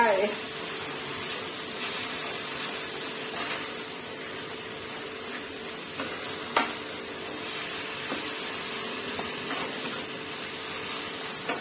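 Minced pork and black lingzhi mushrooms stir-fry in a hot pan, giving a loud, continuous broadband sizzle with a few sharp utensil clicks against the pan.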